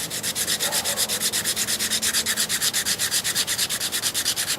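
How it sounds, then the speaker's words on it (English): Cane arrow fletching pinched between two flat sticks and sanded with 80 grit sandpaper, a steady rapid back-and-forth rasping scrape, close and continuous throughout. "we're just going to sand it flat and thinner than it was"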